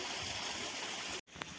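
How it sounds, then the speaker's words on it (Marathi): Water flows along an irrigation channel beside a sugarcane field, a steady close rush that cuts out abruptly near the end and then returns. "बघा, पाट्यानं पाणी चाललंय."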